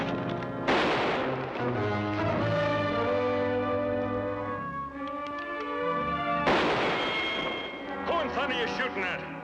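Gunfire in a western TV drama: two sharp, loud shots about six seconds apart, ringing over a dense, sustained orchestral score.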